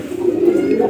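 A pigeon kept in confinement coos close by, one low, throaty, continuous murmur with no other sounds.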